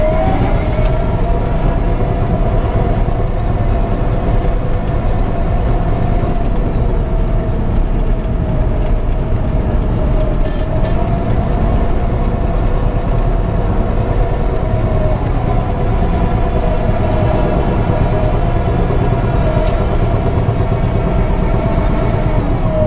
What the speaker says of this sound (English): Here comes our next load of dirt.